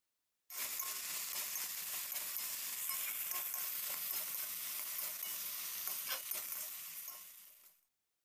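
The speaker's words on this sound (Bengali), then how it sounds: "দিয়ে ওই মশলাটা সবজির মধ্যে দিয়ে ভালো করে কষিয়ে নেবো" Mixed vegetables are sautéed with chili and turmeric spice paste in a pan, giving a loud, continuous, even sizzle with faint stirring scrapes, which then fades out.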